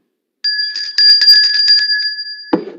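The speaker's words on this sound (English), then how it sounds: "Where's the bell?" A bright bell rings on a weather show, a sustained metallic tone struck repeatedly in quick succession for about two seconds, loud and close, ending with a brief thud.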